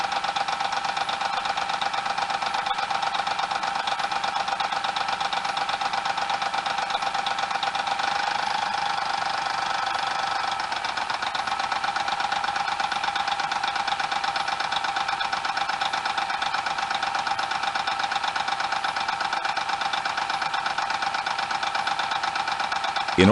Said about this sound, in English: Listen to the sound of a test on a properly operating engine.